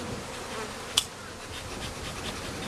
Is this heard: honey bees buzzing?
yes